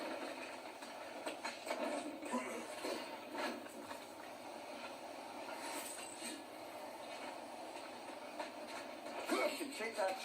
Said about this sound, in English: Ah, nothing like a dwarven train ride.